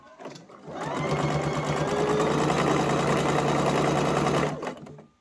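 Sewing machine stitching a fabric scrunchie, a short backstitch then a forward run: one steady rapid mechanical whir of about four seconds, close and loud, starting and stopping abruptly.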